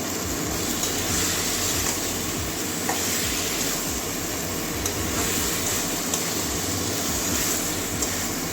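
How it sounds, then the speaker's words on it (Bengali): Fried potato and pointed gourd cook in spices in a pan while being stirred, giving a constant sizzling hiss with repeated scraping and clinking of a spatula, close and fairly loud, no voices. "বেজে রাখা আলু পটলটা দিয়ে দেবো সবগুলো আবার ভালো করে কষিয়ে নেবো"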